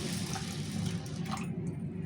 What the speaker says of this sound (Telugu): ఇప్పుడు నీళ్ళు పోసి పెడదాము